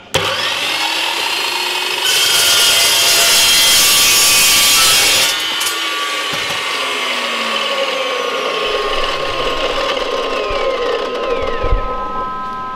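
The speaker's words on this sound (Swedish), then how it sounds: "Det är som att såga i trä med en metall" A saw cuts through metal up close during an older Volvo chassis upgrade, a loud, continuous rasping grind with shifting pitch and brief pauses, with no talking.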